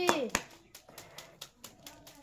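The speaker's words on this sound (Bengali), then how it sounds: "রাহিম সবাই একটা হাততালি" Children clap their hands in a quick, uneven run of sharp claps, a few louder at first and then lighter, while children's voices chatter during a bottle-flipping game for Cadbury chocolate prizes.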